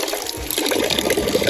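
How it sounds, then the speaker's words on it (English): Drinkable Alpine water gushes from a public city fountain in central Geneva, a close, splashing, steady flow that grows busier partway through, heard alone without talking. "have all these water fountains throughout the city, and it's with water from the Alps"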